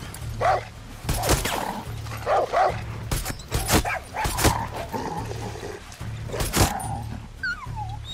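A dog barks repeatedly in a Far Cry 6 game scene, with sharp yips and bow-wows coming in quick bursts, some close and loud, with a whimpering tone between them.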